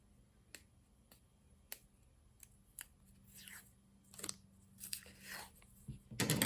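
Scissors snipping excess material off a handmade texture stamp for gel printing, a few sharp separate clicks and snips, fairly quiet, with a louder rustle near the end.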